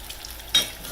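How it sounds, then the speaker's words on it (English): Oil sizzles and crackles steadily as apple fritters fry, with a brief louder burst of spitting partway through. "They're really frying up pretty."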